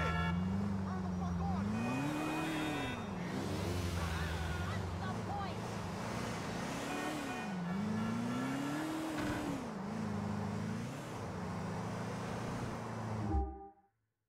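A stolen car drives in Grand Theft Auto IV, its engine droning steadily with pitch rising and falling as it accelerates and eases off, loud and continuous before cutting out abruptly at the end.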